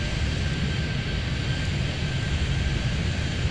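A jet airliner taking off in the Airport Madness 3D airport game at Miami, a steady, loud engine roar that holds evenly throughout with no other sounds on top.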